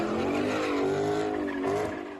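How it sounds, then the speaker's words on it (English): Street racing cars in Dallas rev their engines hard, with a sustained rising and falling engine whine and tire squeal carrying through the whole stretch, fairly close and with no talk. "The revving of engines and squealing tires are familiar sounds for some Dallas residents."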